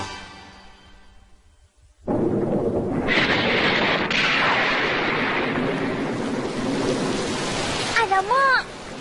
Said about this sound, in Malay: Alamak, dah hujan pula.